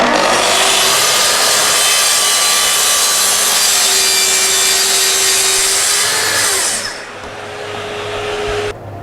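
A saw cuts wood on a Festool docking station fitted with a dust port, a loud, close, steady whine lasting about seven seconds before it stops and winds down.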